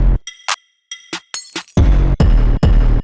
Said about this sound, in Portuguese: ele tem sons de vidro batendo, então pode ser garrafas de vidro batendo